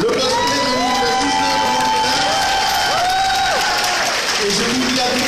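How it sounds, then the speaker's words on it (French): Loud, continuous applause and cheering from the audience of a cosplay contest at the Manga Dax convention in 2019, filling the whole stretch with raised voices mixed into the crowd noise. "Je vais vous demander d'applaudir très fort le cosplay de Manga d'Axe."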